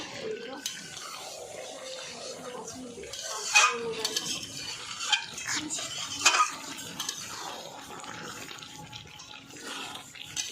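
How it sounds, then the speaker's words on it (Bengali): Mutton curry being stirred and sautéed in a pot, with a ladle knocking and scraping the metal in a few sharp irregular clatters over a low background. "কষানো হচ্ছে"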